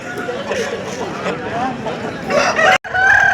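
A rooster crows loudly over the lively hubbub of a crowded hen market in Pileru, with nearby people talking and a brief sharp cut near the end.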